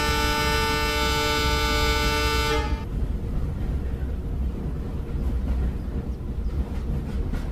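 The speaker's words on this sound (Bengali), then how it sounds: "সারা রাত ট্রেনেই কাটাতে হবে।" A train horn blares for nearly three seconds over the rumble of a running train, then the steady clattering roll of the carriages continues loud and close, used as an effect in a Bengali horror audio story.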